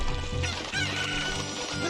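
A cucco chicken in The Legend of Zelda: Ocarina of Time gives loud, close, rapid clucking and squawking, a short burst of fowl cries with no talk over it.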